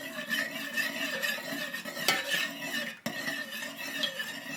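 A spoon stirs fresh coffee fragrance oil into melted wax at about 65 degrees while making wax melts, giving a steady, close scraping swirl with light clinks against the container, continuous and alone without talking.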